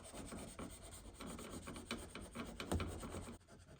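Truck paint being scuffed by hand with 800 grit sandpaper: a steady, soft rubbing rasp with rhythmic strokes running throughout, close and fairly quiet with no talk.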